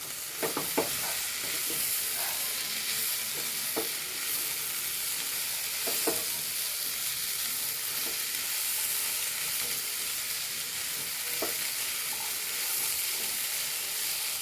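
Steady sizzle of banana stem and chickpea thoran frying in a pan, with scattered scraping clicks of a spoon stirring through it, close and fairly quiet, no voices.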